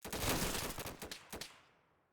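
A rifle volley fired as a salute cracks out as a quick ragged cluster of loud shots, followed by a few fainter reports and a reverberant tail that fades away outdoors.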